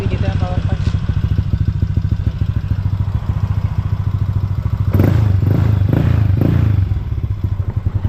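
A Yamaha Mio M3 motorcycle with a 59 mm big valve head and CRP 6.0 cam with compression release runs close by, a fast, even putter with a heavier, clattery burst of revving midway.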